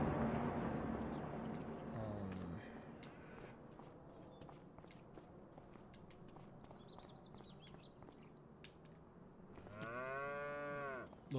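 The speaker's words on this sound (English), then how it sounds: "let's go over here and check and see what the cows are doing" Cows on a farm moo repeatedly, long low calls rising and overlapping near and far, with footsteps crunching and faint birds chirping in between; a final loud close moo ends the stretch without talk.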